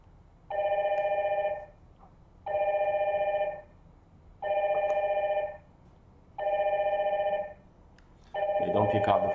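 Ringback tone of a call placed through a DINSTAR IP PBX, four evenly spaced ringing bursts of about a second and a half, each followed by a pause, clear and steady, with a voice coming in at the end.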